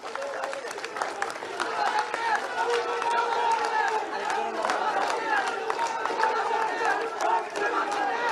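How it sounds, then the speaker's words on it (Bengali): A crowd at a youth wing launch event applauds a newly named convener, a dense patter of clapping mixed with ongoing speech and murmuring voices. "আপনারা সবাই তাকে করতালি দিয়ে বরণ করে নিন।"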